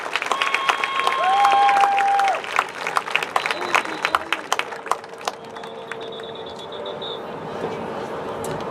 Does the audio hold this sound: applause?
yes